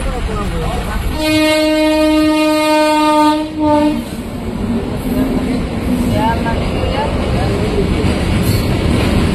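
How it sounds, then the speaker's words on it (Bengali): A long train arriving at a station sounds its horn in a sustained blast for about three seconds, then rumbles and clatters loudly nearby, with voices faintly mixed in. "রেলগাড়ি ফিরাবে, ওখানে দাঁড়ায় আছে এখন, কতক্ষণ আসবে দেখি রেলগাড়িটা।"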